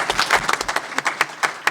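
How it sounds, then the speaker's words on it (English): Audience applause at a neuroscience panel discussion: a burst of hand clapping from a seated crowd, sharp claps and broadband patter through the whole moment, moderately loud with no talk over it. "let's applaud that one"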